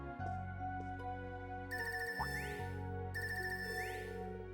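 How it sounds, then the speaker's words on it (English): A phone ringtone plays in the game Trails of Cold Steel III, a bright electronic chiming melody repeating in two bursts over a low sustained musical backdrop. "Nice ringtone. I haven't heard this before."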